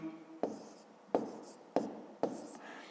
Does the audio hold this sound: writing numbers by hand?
yes